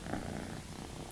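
A house cat purrs softly and steadily while being held indoors, a low continuous rumble with no voices over it.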